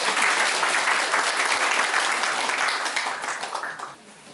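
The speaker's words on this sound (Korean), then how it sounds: "다시 한 번 더 박수 부탁드립니다" A forum audience at a panel debate on household energy costs in Daegu gives a round of applause after a speaker is introduced, loud, even clapping that thins and fades toward the end.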